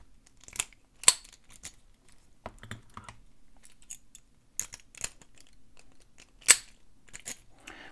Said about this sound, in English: I can reach through with a tool like this and directly manipulate the locking mechanism